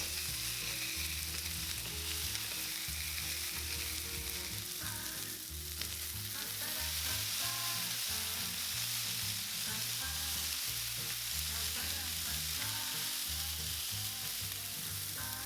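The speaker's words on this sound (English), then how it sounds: "We're going to cook the meat patties in batches, so over high heat, add in the extra light olive oil." Meat patties smashed flat and frying in batches in extra light olive oil over high heat for rice burgers, a steady loud sizzle running throughout with occasional stirring and scraping, no voices.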